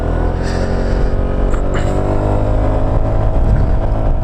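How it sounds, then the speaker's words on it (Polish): A Honda Forza 125 scooter at full throttle on an uphill road, its engine droning loud and steady up close under rushing wind noise. "Teraz cały gaz. No i tak się zbiera ta Honda."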